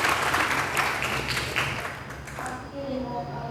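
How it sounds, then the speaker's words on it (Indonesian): A class of students claps their hands together in a brief burst, a dense patter of many hands that thins out after a couple of seconds, with a voice continuing over the room. "Bagus, tepuk tangan."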